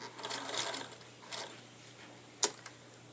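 A sewing machine stitching across fabric to a marked half-inch point and back to the edge runs in faint, short bursts of soft mechanical whirring with quiet pauses and a small click near the end.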